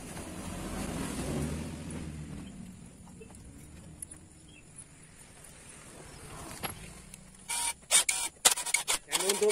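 A wrench tightens the clutch nut on a Yamaha Jupiter Z motorcycle: a quiet, faint stretch of workshop noise, then a quick close burst of sharp metallic clicks near the end.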